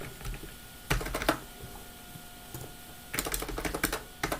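Quick bursts of computer keyboard typing, close and crisp, with a pause between two flurries of keystrokes and no talking.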